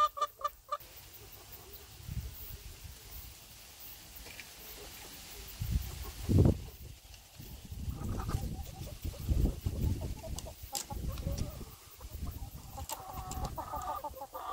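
Backyard chickens cluck and murmur at close range, with soft scattered calls and rustling pecking sounds through a quiet outdoor setting, a louder cluck or two standing out midway.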